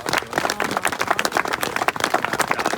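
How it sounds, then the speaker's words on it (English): A small group at a carp fishing social applauds an angler coming up to collect his award, with brisk, close, uneven clapping throughout. "round of applause, guys"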